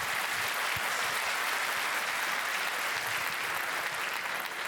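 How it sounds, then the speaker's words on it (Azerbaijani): Audience applause fills a hall at the opening of a meykhana concert. Dense, steady clapping from a large crowd holds at an even loudness throughout, with no talk over it. "Və bu alqışlara görə təşəkkür edirəm"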